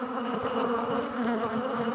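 A dense, steady drone of honey bees swarms around an opened hive during queen-bank preparation, loud and continuous with no voices.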